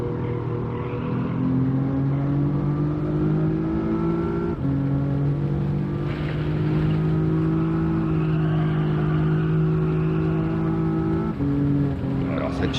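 A race car's engine drones and revs steadily in Gran Turismo 7 on the Trial Mountain circuit run in reverse, with a continuous loud whine that dips briefly at gear changes.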